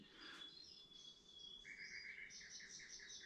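Several birds chirp and trill at a moderate distance on an Italian farmhouse morning, steady overlapping high calls over a faint background hum, with no talking.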